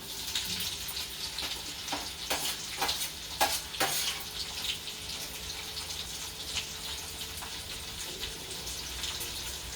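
Finely chopped green chillies dropped into hot oil in a pan, crackling and sizzling loudly and close, with a cluster of sharp spattering pops early on settling into a continuous fry.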